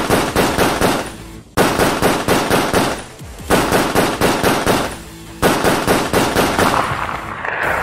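A long rifle empties a full magazine in rapid automatic bursts, loud and close, with brief pauses between volleys and no talk.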